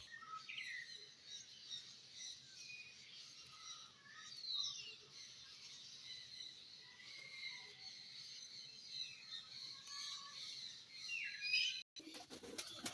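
Pigeons and other birds chirping in hot weather, a quiet, steady chorus of high tweets and calls at moderate distance, with faint wing flaps and a sudden clatter near the end.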